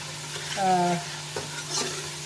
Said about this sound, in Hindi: ये मैंने लहसुन अदरक और प्याज डाल दिए।